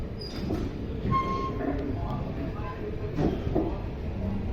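The Hasan–Solapur Express, train number 11312, stands at platform 3, a steady low rumble with occasional metallic clanks and platform noise, while voices talk nearby.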